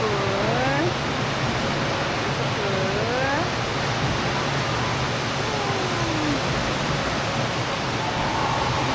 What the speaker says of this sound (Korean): 파도풀